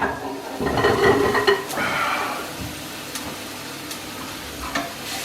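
Peppers tipped into a hot pan to fry, a burst of clattering and sizzling that settles into a softer steady sizzle with a few light taps.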